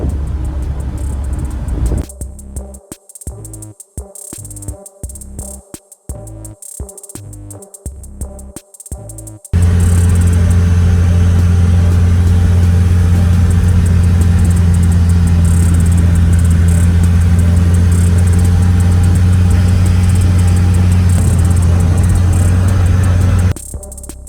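J9 camper van with a front-wheel-drive 2500 engine climbing steep ramps, the engine droning steadily and loud, choppy at first and then a sustained strong rumble with no talk.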